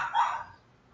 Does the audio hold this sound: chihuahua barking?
yes